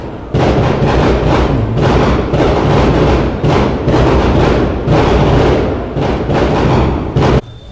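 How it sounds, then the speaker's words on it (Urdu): Firecrackers set off, probably at a wedding, heard as dense, loud, continuous bursts of crackling pops that run for several seconds with brief gaps, then stop abruptly near the end. "پٹاخہ چھوٹ رہا ہے"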